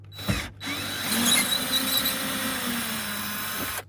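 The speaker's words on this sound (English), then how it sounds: "So we're gonna zip all these little screws out of here. Hopefully my drill will fit in here." A cordless drill whirs and squeals as it backs out small screws behind a truck's wheel well during cab body mount work, a short spin-up followed by a sustained, close, loud whine with a faint screech.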